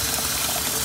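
Water gushes steadily into a pot to be boiled for sealing jars of cherry preserve, a continuous close rushing pour with no talk.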